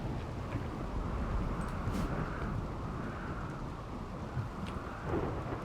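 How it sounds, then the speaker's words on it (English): A continuous low rumble of rain and distant thunder in the video game RimWorld rolls on without pause, with no voices. "It's raining."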